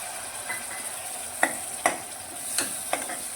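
Tomato puree stirred into a spiced green pigeon pea curry in a pan: a soft bubbling sizzle under several sharp utensil scrapes and taps against the pan, spaced irregularly.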